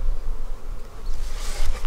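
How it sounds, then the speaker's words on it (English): Honeybees from an army hive buzz inside the opened hive in freezing 25°F weather, a dense, steady hum that swells near the end, with no talking over it. "There's a lot of bees in here"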